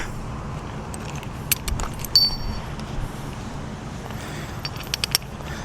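Metal trailer safety chain and hook rattling and clinking as they are hooked under a vehicle, quiet, close clinks in scattered bursts over a low background hum.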